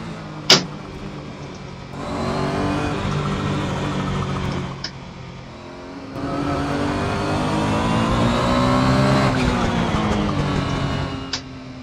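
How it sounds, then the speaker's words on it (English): A race car engine in the racing game Assetto Corsa climbs through the revs in two long pulls with a brief lift between them, its tinny, buzzy note rising steadily with a few sharp clicks. "Quite a nice sounding car."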